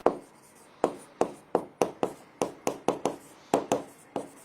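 A line is written on a board in a chemistry lesson, a rapid series of sharp scratchy taps and strokes in uneven rhythm, close and clear with no talk.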